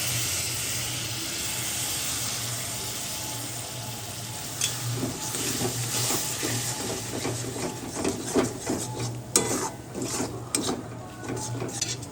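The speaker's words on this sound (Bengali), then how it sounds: "বেসন দিয়ে দিলাম একটু মশলাটার সাথে ভালো করে মিশিয়ে নেব" Spice mix and gram flour being stirred in a pan over a low hiss, with rhythmic scraping and clicking strokes of a spoon growing busier and more frequent in the second half.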